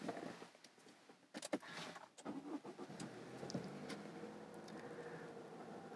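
A Subaru Levorg Layback car engine cranks and catches after a few clicks and thumps, then settles into a quiet, steady idle.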